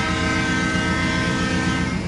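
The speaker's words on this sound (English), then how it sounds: "Oh my god, that's a good horn." A loud, sustained Santa Fe train horn in a video game blares steadily from start to finish, a rich chord of tones with a low rumble underneath.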